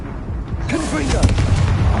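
A Confringo fire spell goes off in Hogwarts Legacy: a booming burst rises partway through and rolls on, mixed with a voice and busy game noise.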